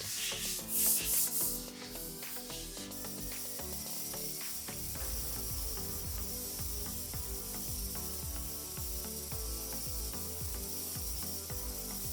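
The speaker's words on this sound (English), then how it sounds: "we very lightly sanded with a fine grit pad" Fine-grit pad lightly sanding the polyacrylic-coated top of a cedar chest, a steady, close rubbing and scratching that runs continuously without pause, with no talking.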